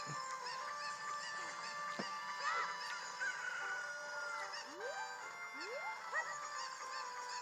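Cuckoo chicken in the video game Zelda Ocarina of Time 3D, faint squawks and clucks over a soft musical background, with a few short rising chirps toward the end.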